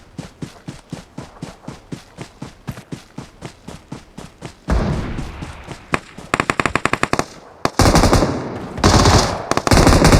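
Gunfire in the mobile game PUBG Mobile: a long string of rapid single shots, then louder bursts of automatic fire with sustained blasts, close and forceful.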